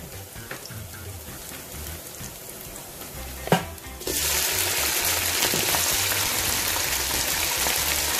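Chicken added to browned onions in a karahi for dhaba-style chicken karahi, a loud, dense sizzle that bursts in after a sharp clank and then holds steady, following quieter stirring and scraping.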